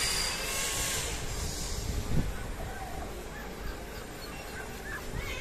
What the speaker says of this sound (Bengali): এই তো আমাদের হাঁস,